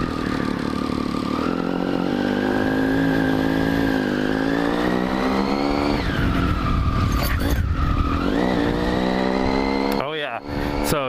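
Triumph Street Triple 675 motorcycle being ridden, with an engine whine rising through the revs, shifting and climbing again, a steady close drone, and a rider talking over it near the end.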